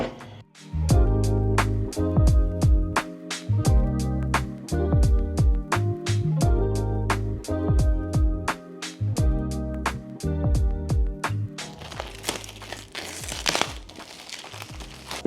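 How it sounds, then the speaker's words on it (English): Cellophane wrap is peeled off an Insta360 Go 3S camera box, a brief crinkling burst near the end of the clip that sits partly under loud, steady background music. "Cellophane's coming off."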